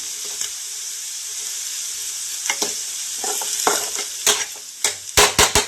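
Potato pieces sizzle softly in a covered pan with a steady hiss, joined later by a series of sharp clinks and scrapes from stirring near the end.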